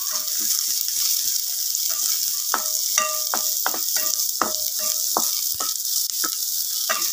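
Garlic frying in a pan for a budget Filipino dish, a steady hot sizzle with scattered crackling pops and stirring clicks, close and continuous with no talking.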